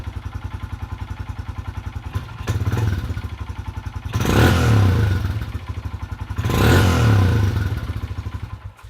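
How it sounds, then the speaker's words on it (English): A Honda CRF125F dirt bike, just repaired after bogging, idles with a rapid close putter, then two loud throttle blips rise and fall before it settles back to idle. "Let's just start it up and show you one more time."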